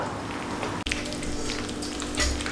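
Custard powder vanilla halwa being stirred slowly in a pan with ghee, giving a steady soft sizzle and gentle scraping throughout, close up, with a single sharp tap near the start.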